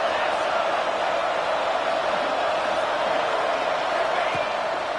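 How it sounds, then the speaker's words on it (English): A large football stadium crowd roars at a Texas Tech Red Raiders game on third down, a steady dense wall of cheering and whooping from thousands of fans, with a commentator talking over it. "The Red Raider crowd rising to the occasion to help its defense on 3rd down."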